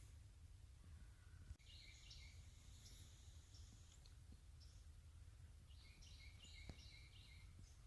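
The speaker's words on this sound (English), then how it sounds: "Only noise you're hearing is birds and" Birds and crows calling in the woods early in the morning, with faint scattered chirps and high calls over a low steady rumble of wind, most active near the start and again toward the end.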